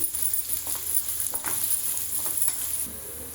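Onions sizzle and fry in a pan for a broccoli cashew curry, a steady close crackle with faint stirring scrapes and no talk.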